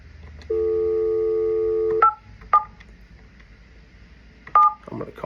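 A phone number being dialed produces a long steady dial tone followed by several sharp, separate DTMF keypad beeps at uneven intervals, close and clear, with faint background noise and no talking.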